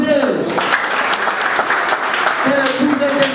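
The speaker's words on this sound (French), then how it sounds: "Applaudissez." Civil wedding ceremony guests in France clap together in a lively burst from a small gathering indoors, with speech over the start and the end of the applause.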